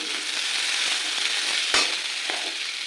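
Steady, loud sizzling of potatoes frying in a pan and starting to burn, with a brief scrape or stir partway through; no voices.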